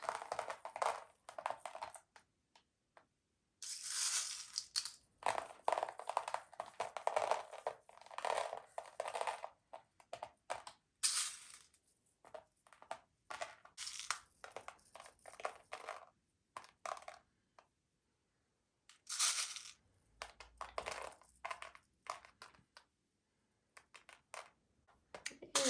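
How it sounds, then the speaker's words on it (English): Gold crushed glass is sprinkled onto a red and gold canvas painting, making scattered gritty crunches, clicks and tinkling rattles in bursts with quiet gaps between them, close and fairly soft. "Then I'm going to start adding my gold crushed glass."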